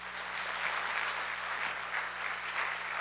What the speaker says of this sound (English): Let's give a round of applause for so far for all of our singers,